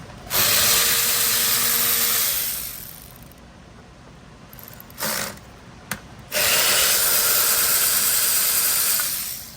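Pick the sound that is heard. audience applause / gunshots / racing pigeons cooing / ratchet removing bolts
ratchet removing bolts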